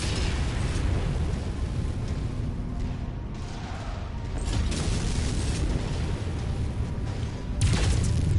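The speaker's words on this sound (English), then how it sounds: "Incoming missile." An incoming missile explodes in Mechwarrior 5, a heavy rumbling blast that rolls on and swells again near the end, with more booming impacts and no voices.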